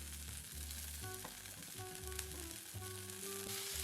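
Asparagus sizzling as it is tossed in a pan, a quiet steady frying hiss with a few low bumps from the tossing and no talk.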